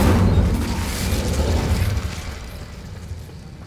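A Hogwarts Legacy Incendio fire spell bursts with a loud whooshing roar that fades away over a few seconds, heard alone with no talking.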